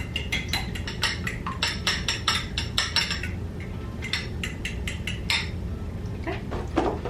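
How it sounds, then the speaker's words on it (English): Eggs being whisked in a bowl with a fork or utensil, a fast run of close, bright clinking taps in bursts with short pauses, no talking. "I'm just going to mix that up like you would when you're scrambling eggs"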